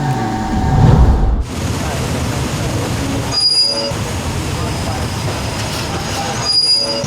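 A train on the northeastern line from Bangkok to Nong Khai rolls along the rails with a steady rumbling clatter and high wheel squeals, a louder heavy thump near the start.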